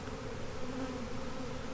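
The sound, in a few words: swarm of honey bees buzzing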